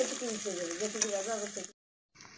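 Potatoes fry in a pan with a steady sizzling hiss while a person talks over it; the sound cuts out briefly near the end before the sizzle resumes.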